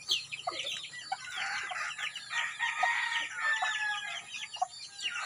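A flock of chickens clucks and crows close by at a rural farm, overlapping calls forming a busy, continuous chorus of varied squawks.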